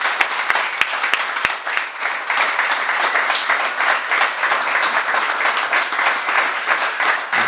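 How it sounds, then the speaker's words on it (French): A crowd at an outdoor white cane presentation ceremony bursts into loud, sustained applause, beginning with a few sharp separate claps before swelling into a dense, steady ovation that lasts throughout. "je voudrais entendre un tonnerre d'applaudissements"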